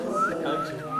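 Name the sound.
a person whistling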